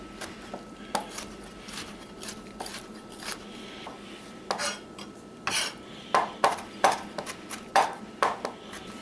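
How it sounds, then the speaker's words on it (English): A knife chopping pickles on a cutting board, sparse taps at first that become a rhythmic run of sharp, close cuts; no one speaks. "Now I like to chop the pickles first."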